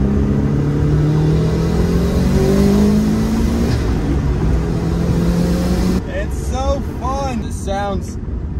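A car engine revs hard through an acceleration pull, its rising roar loud and close for about six seconds before it cuts off and excited voices take over.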